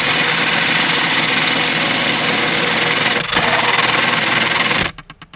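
A loud, steady washing machine wash motor roars with a rattling vibration, running abnormally noisy, then cuts off abruptly near the end, leaving a pulsing hum.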